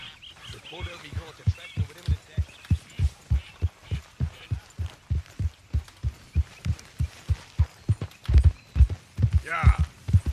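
Horse hooves clip-clopping in a video game, a steady even rhythm of about two to three hoofbeats per second, close and clear, growing heavier and more irregular near the end, with a voice speaking over it.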